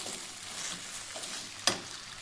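Okra frying in a pan for a fasting dish, heard as a quiet, steady sizzle with a single sharp click near the end; no one speaks.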